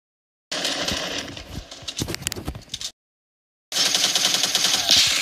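Gunfire in the video game Fortnite comes in two dense, rapid bursts of clattering shots separated by a short silence, loud and close, with no talking.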